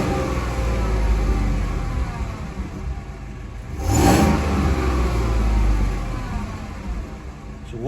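A 2014 Chevrolet Silverado with stock exhaust runs up close as a low, rumbling engine, swelling into a brief rev near the middle before settling back to a steady idle-like drone, with no talking.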